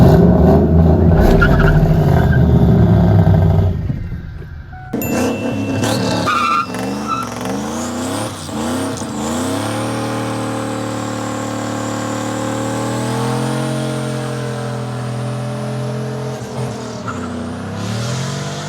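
A car attempts a brake-stand burnout. Its engine revs hard and loud at first, then holds a sustained, rising drone with tire squeal, close by.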